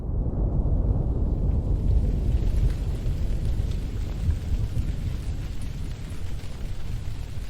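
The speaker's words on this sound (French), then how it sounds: "Des coups de tonnerre." Heavy thunder rolls through a torrential mountain rainstorm above a lake, a loud continuous rumbling roar with the hiss of pouring rain, steady throughout with no talking.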